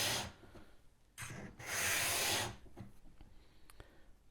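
Sanding strokes rub across a guitar fretboard to shape its radius: several rough, scratchy bursts of uneven length, the longest held for about a second, with faint, quieter rubbing between them and no talk.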